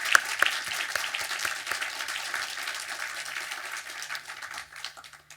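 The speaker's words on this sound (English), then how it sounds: "Please give these tremendous individuals, organizations, and all our supporters a round of applause." Sustained audience applause after a film screening, a dense even patter of many hands that holds steady and then slowly fades.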